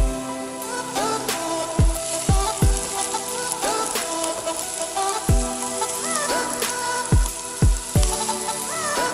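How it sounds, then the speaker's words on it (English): Garlic and onion frying in oil in a frying pan give a steady, close sizzle, with occasional clinks and taps of a utensil against the pan and no talk. "Oil into frying pan, then add our garlic. You need to fry them a little bit more. After that, add our onion."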